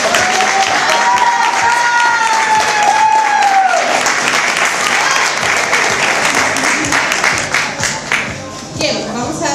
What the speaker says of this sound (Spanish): vamos a darle un fuerte aplauso a Nuray